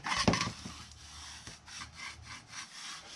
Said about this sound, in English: So now we're going to remove our tape backer.